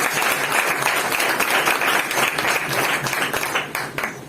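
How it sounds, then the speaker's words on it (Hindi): Loud congregational applause during a church sermon about Jesus, a dense sustained clatter of many hands that tapers off at the close. "उसके चलाव के लिए जोरदार तालियां।"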